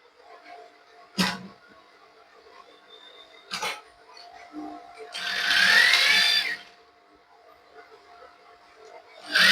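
A sewing machine stitches the end of a sweatshirt wrist band in a short, loud whirring burst, preceded by a few sharp clicks and handling sounds in a quiet room.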